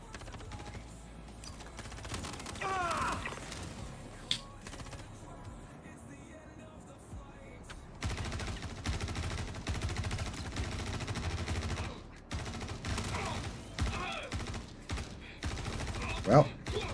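Bursts of rapid gunfire from a gun in a video game crackle in quick volleys, with mechanical clatter between shots and a voice talking at times.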